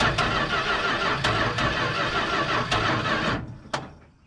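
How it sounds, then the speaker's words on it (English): Cold start attempt on a 1970 Dodge D-100 engine: steady loud cranking with periodic sharp clicks for over three seconds, then it stops, leaving a single knock. "We're talking about a cold start here."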